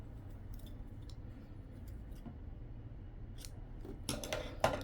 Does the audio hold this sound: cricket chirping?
no